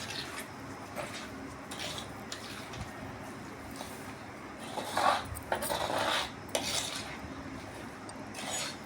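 A spoon mixes mango pickle in a container, producing faint repeated scraping and rubbing strokes with occasional light metallic clinks.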